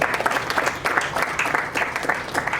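Sustained applause from a congress audience in a room, steady clapping throughout with no voices.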